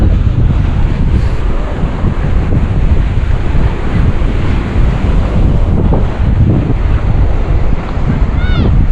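Ocean surf rolling onto the shore on the coast at Rabat, Morocco, a loud continuous wash of breaking waves heavily buffeted by wind on the microphone, steady throughout with no pauses.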